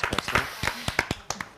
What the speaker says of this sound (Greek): Νομίζω ότι αξίζει ένα χειροκρότημα.